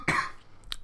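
A single harsh cough, close and loud, is followed by a short quieter throat sound in an otherwise quiet room.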